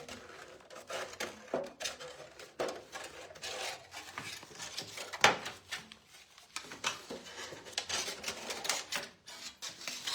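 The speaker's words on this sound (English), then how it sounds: "I'll trim it when I get most of this cookie tin cut off." Snips cut apart a thin metal cookie tin, producing a steady run of close, irregular clicks, crunches and scraping metallic snaps with no talking.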